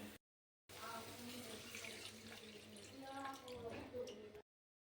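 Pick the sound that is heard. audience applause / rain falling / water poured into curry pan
water poured into curry pan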